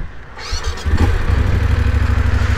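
Close, loud rumble of an off-road motorcycle engine, lighter than a GS 1200 Adventure, starting up and settling into a steady low idle-like drone.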